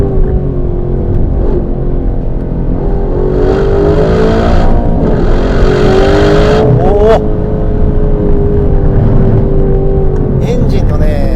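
A 2025 Aston Martin Vantage in Sport Plus mode revs hard and loud from inside the cabin, pitch climbing and sweeping before settling into a sustained high drone, with someone talking over it.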